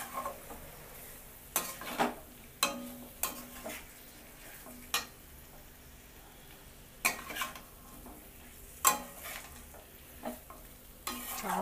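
Pepper chicken being stirred in a pan with a spoon, giving repeated scraping and clinking strokes spaced a second or two apart over a soft, steady sizzle of frying, close and alone with no voices.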